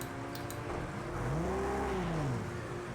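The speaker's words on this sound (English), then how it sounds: "His engine's really loud too." A race car engine in Project CARS 2 revs loudly and steadily for a few seconds, its pitch climbing and falling once, with a continuous droning whine and no voices.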